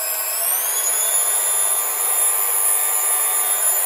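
A Wilfa Smooth Mix 500 hand mixer, a 500-watt model, spins up on speed 1 and settles into a loud, steady motor whine with a high tonal hum, running alone without talk.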